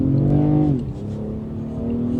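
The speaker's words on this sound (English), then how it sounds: "that engine sounds so good!" A 2025 Lexus ES 350 engine revs up with a rising hum, then drops in pitch as it shifts and keeps pulling steadily, close and fairly loud.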